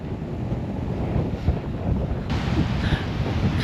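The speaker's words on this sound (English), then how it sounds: "check out the waves on that reef." Waves rumble and wash on a reef in the distance beneath strong gusting wind on the Western Australian coast, buffeting the microphone; no voices.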